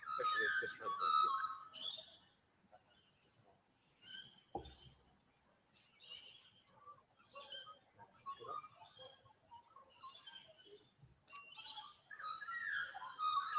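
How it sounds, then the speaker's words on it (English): Birds chirp in a quiet backyard, with bright, high whistled calls in scattered bursts, nearest and loudest at the start and end, separated by soft pauses. "You can hear bird chipping away."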